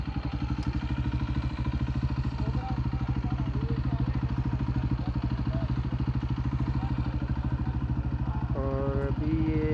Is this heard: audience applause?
no